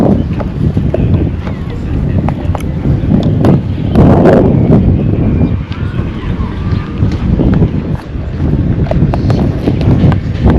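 Strong wind buffets the microphone outdoors beside road construction in the Nema Kunku community in The Gambia, making a continuous loud, rumbling roar that surges and eases across the whole stretch.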